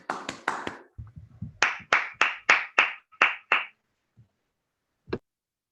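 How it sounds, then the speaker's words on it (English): Online lecture audience clapping after a physics lecture, unmuted participants producing a few scattered bursts followed by a run of about eight sharp, evenly spaced close claps, then a lone final clap after a pause. "I think we should unmute and clap Miguel for a wonderful set of 3 lectures."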